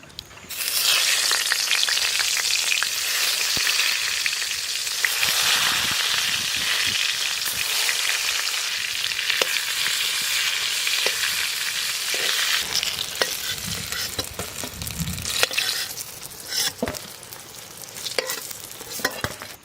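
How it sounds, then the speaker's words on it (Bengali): Brinjal frying in mustard oil in a wok, a steady dense sizzle with occasional stirring scrapes and clatter, continuous and close throughout with no talking. "আমি ওই কড়াইতেই বেগুনটারে ভাজে নেব সর্ষের তেল দিয়ে"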